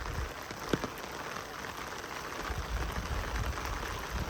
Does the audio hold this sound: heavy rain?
yes